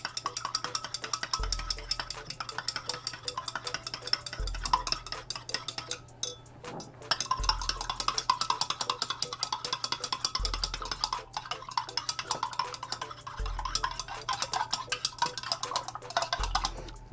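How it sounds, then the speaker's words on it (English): Silk amino acid powder stirred into water, with a rapid, continuous metallic ticking and scraping of a utensil against the container, pausing briefly about a third of the way through. "Mix it until it all dissolves"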